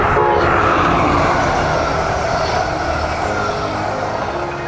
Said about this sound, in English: It's an Amtrak right there.